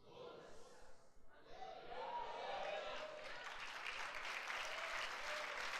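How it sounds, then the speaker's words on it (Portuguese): A church congregation breaks into applause at a pastors' gathering. Faint voices come first, then clapping swells into sustained, dense applause from a large crowd filling the room. "Pode aplaudir o Senhor Jesus."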